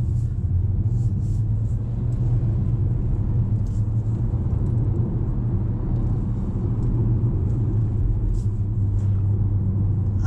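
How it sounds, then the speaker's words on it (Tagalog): A 2024 GAC Empow car on the road during a brake test, giving a steady low rumble of engine and road noise that stays constant and fairly loud throughout, with no voices. "Tingnan natin ang tatag ng preno nito."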